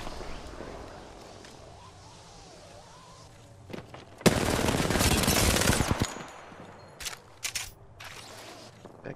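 Automatic weapon fire in the battle royale game Apex Legends, a loud two-second burst after quieter game ambience, followed by several scattered sharp shots; a voice talks briefly near the start.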